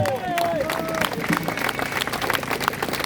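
A crowd at an outdoor rally applauds organisers and volunteers with steady clapping, scattered whistles and cheers, fairly close and continuous, with some voices mixed in.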